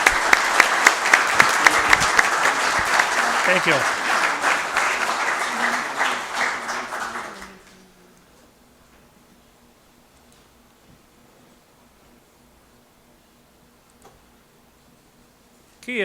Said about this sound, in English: Let's give them all another nice round of applause.